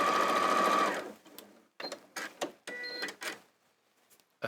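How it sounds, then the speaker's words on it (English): A sewing machine stitches quilt block pieces together in one fast close whirring run, then stops, followed by a few short clicks and bursts of mechanical handling. "So I'm sewing those 2 together."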